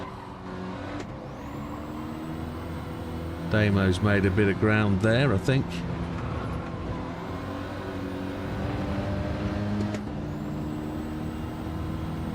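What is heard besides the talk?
race car engine in a Clio Cup racing video game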